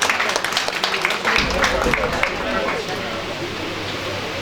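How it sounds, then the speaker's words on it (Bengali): An audience at a prize distribution ceremony applauds prize winner Baishali, with dense clapping that is strongest in the first couple of seconds and then thins into a softer, steady patter. "বৈশালীর জন্য একটু জোরে হাততালি"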